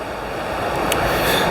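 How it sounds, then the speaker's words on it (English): Big ocean waves break on a pebbly Welsh beach in a continuous loud wash of surf, close by and alone. "big waves coming quite close as well"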